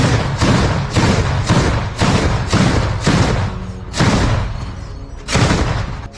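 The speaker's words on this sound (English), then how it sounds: "A Zu-23 anti-aircraft gun firing on Russian positions." Twin-barrel 23mm ZU-23 anti-aircraft gun firing on enemy positions in the Ukraine war, heard as loud, close bursts of heavy booming shots in repeated short groups with brief gaps between them.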